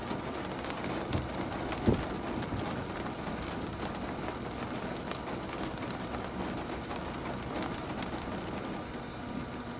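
Steady rain falling outdoors during a Kansas storm, a soft, even hiss that stays faint and continuous, with a brief thump and a few scattered bird calls.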